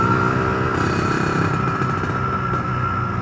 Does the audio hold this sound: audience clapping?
no